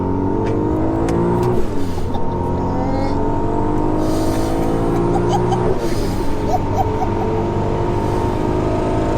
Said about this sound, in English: the way the boost comes in, because it's a big turbo, it's kind of the old school turbo lag, and then it whooshes in